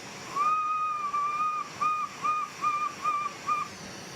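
A hot glass fish piece being worked in a flame gives off a high, clear whistle, first one long tone and then a string of short, evenly spaced whistles, close and fairly loud.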